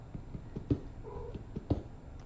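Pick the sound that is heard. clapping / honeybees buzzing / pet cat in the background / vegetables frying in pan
pet cat in the background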